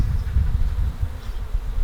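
A mass of honey bees being installed into a hive at a farm makes a close, loud, continuous buzz that wavers slightly in intensity throughout.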